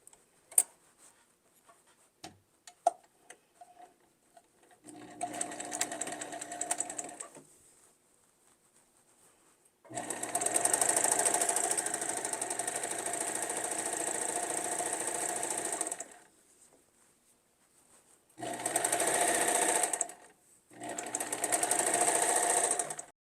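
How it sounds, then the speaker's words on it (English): A home sewing machine stitches a hem on cloth for a colonial cape, running in three bursts of steady rapid whirring, a long middle run and two short ones, separated by quiet pauses with a few faint clicks. "let's head downstairs to my sewing machine and start sewing."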